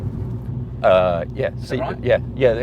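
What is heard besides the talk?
car cabin road noise and vibration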